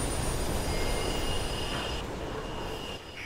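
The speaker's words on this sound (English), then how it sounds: "There's a train coming." A train roars past in a tunnel in the Mirror's Edge game, a loud, dense rumble with wheel squeal and high metallic whine that eases slightly toward the end.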